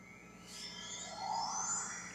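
Fast travel effect from the video game The Legend of Zelda: Breath of the Wild, a soft shimmering, rising whoosh that swells and sustains for about two seconds with no speech.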